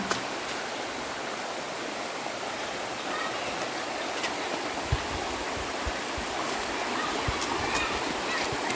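A steady rush of flowing river water, swollen slightly after rain, fills the scene, broad and continuous, with a few faint knocks and clicks.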